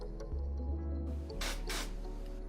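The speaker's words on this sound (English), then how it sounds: "gave it a little zoosh with some activator spray in between coats" Two short, close hissing bursts of activator spray mist onto a CA glue finish on a ring made from old comic books, over a low steady hum.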